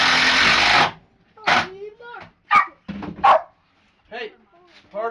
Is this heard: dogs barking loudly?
yes